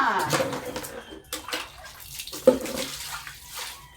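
Water splashing and pouring while laundry is rinsed by hand in a basin, irregular sloshes and trickles at close range, with scattered knocks and faint background voices.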